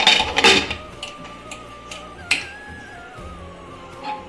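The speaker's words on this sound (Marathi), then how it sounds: "झाकण लावूया आता आपण." A pressure cooker lid is fitted onto a pot of vegetable pulao, giving a few close metallic clicks and clanks, one sharper knock midway, with a faint background hum.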